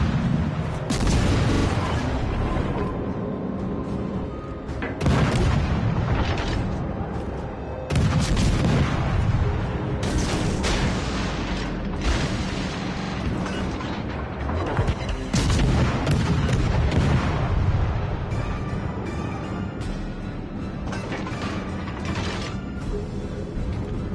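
Naval artillery fire in a warship battle video game: heavy, repeated booming gun blasts with mechanical creaking and ratcheting, loud and sustained throughout, with game voice lines partly under the noise.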